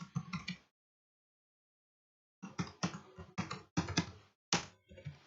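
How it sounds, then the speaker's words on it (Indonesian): Typing on a computer keyboard while entering a quiz question: a short burst of clicks, a pause of silence, then a longer run of crisp, close key presses. "teman-teman lagi ketik lagi di sini pertanyaannya"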